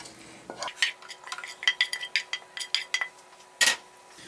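Sauteed vegetables are scraped and stirred into rice in a pot, a close run of quick spoon-on-metal scrapes and clinks, with one louder knock near the end.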